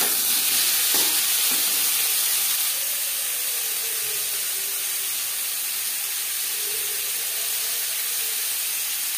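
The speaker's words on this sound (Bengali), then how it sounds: "সবার প্রথমে এঁচোড় হালকা করে ভেজে নেব।" Jackfruit pieces frying in refined oil give off a steady, bright sizzle and hiss that stays fairly even, with a slightly louder burst near the start and occasional stirring.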